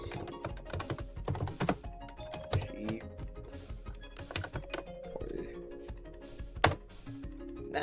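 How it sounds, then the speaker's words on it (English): A Linux install command is typed on a computer keyboard: quiet, irregular keystrokes with a few heavier thunks, close by and without speech. "Apparently I didn't type it right."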